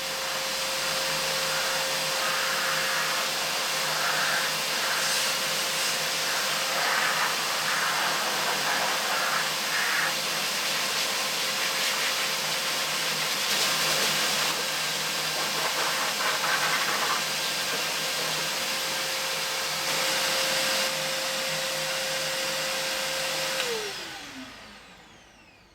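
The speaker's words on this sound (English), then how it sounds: "And actually, you can go to the inside as well and blow it out." Shop vac blowing air through its pleated filter to clear out dust, a loud steady roaring whine held for over twenty seconds with small fluctuations, then spinning down as the motor is switched off, no talk.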